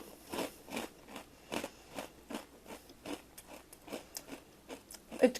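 Crisp, rhythmic crunching of a gluten-free cheddar snack being bitten and chewed close up, a steady series of about a dozen short crackly bites and chews, fairly quiet with no talking.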